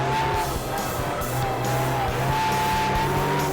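A Ford Fiesta ST rally car roars at speed, its engine note steady and loud with harmonic tones shifting through gears, while gravel crunch and tyre scrabble fill the sound continuously.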